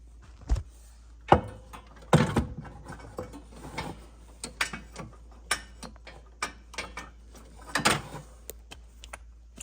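A ratchet loosening an exhaust manifold bracket bolt on a Peugeot 107, Citroen C1 or Toyota Aygo, heard as close, irregular bursts of ratcheting clicks and metallic knocks with short pauses between them and no voices.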